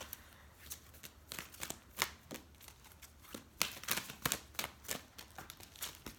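Tarot cards are shuffled close by in quick, crisp riffling bursts that patter unevenly for several seconds, with no talking.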